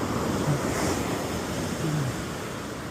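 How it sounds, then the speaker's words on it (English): Ocean surf rolling in at Coronado beach near a bay spillway, a steady loud wash of breaking waves with wind buffeting the microphone throughout. "as it's coming in these waves. It's pretty loud."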